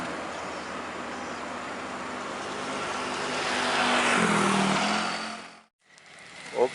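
A PT Rapi bus engine revs up loudly and swells over several seconds before cutting off abruptly. A brief quieter engine sound then returns.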